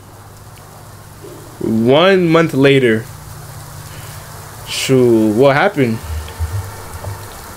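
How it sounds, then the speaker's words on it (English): Steady hiss of rain in a video game runs through the whole stretch, a constant wash beneath two bursts of someone talking. "I hear rain."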